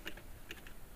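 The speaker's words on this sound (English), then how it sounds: "Press enter again." Computer keys are pressed while drafting in AutoCAD: two or three faint, quick clicks close to the microphone in a quiet room.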